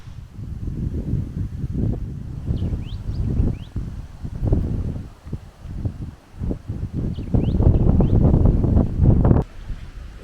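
Strong wind blowing outdoors beside the Darling River, loud gusts buffeting the microphone in heavy rumbling surges that rise and ease, with a few faint bird chirps in the background.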